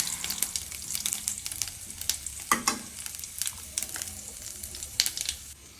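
Tempering with curry leaves crackles in hot oil for an Andhra-style palak dal: a steady close sizzle dotted with many sharp pops and spits.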